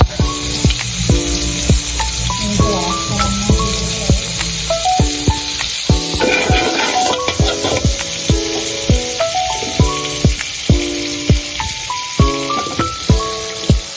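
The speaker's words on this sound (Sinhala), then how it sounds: "භාජනයක් අරගෙන ඒකට තෙල් ටිකක් දාලා ඊළඟට බටර් චුට්ටකුත් එකතු කරගත්තා" Oil with a little butter sizzles steadily in a pan for garlic rice, a continuous close frying hiss with small pops, heard alone under a light musical backdrop.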